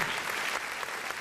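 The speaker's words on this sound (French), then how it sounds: "Sous vos applaudissements, s'il vous plaît" A short burst of dense, steady clapping from an audience, filling the whole moment without pauses.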